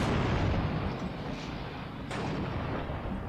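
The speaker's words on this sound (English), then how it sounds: "2 AT guns shooting at that thing." Two anti-tank guns fire in the WWII strategy game Steel Division 2, heard as a dense, rumbling barrage of heavy shots with a sharper crack about two seconds in, loud and without speech.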